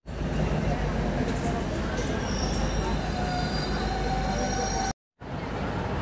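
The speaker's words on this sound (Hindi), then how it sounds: "रतलाम की ओर जाती हुई डेमो फ्रेंड्स, अजनौद स्टेशन पे इसका क्रॉसिंग था।" A DEMU passenger train bound for Ratlam rumbles past Ajnod station, a loud, continuous close roar of wheels and carriages with faint wheel squeals. A brief cut drops out near the end.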